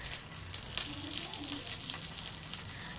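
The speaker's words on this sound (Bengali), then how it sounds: "3 পিস মাছ তাওয়াটার মধ্যে দিয়ে আবার তার কলা পাতার উপরেও একটু সর্ষের তেল দিয়ে দিলাম" Hilsa fish pieces frying in mustard oil on a tawa lined with banana leaves give off a steady, close, low sizzle that holds evenly throughout with faint crackle.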